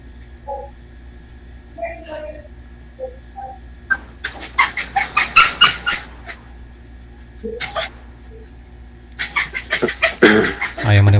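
A dog barks in quick close bursts, with clusters of sharp yelps and whimpers while two dogs play, and faint background noise between the bursts.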